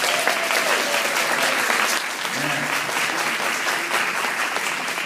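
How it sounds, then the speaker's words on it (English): Audience applause at a kindergarten play, a sustained, fairly loud spread of clapping from the crowd of parents, with faint talk and a few voices mixed underneath. "let's just give them a big round of applause just to start off"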